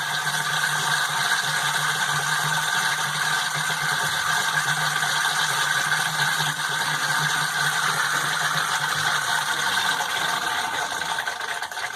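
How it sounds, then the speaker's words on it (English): A Franklin Electric SubDrive water pump system runs steadily as it builds pressure, producing a constant, moderately loud mechanical hum with a faint rattling texture that holds level throughout. "Then the pump comes on and starts building more pressure."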